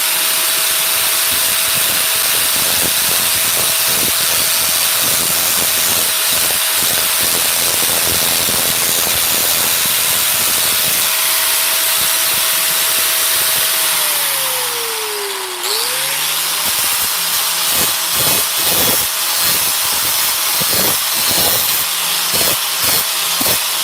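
A rotary tool polishing a metal part of a Losi LST RC rollcage, heard as a loud steady high-pitched whine with grinding hiss, briefly dipping in speed before spinning back up, with intermittent scraping contact sounds.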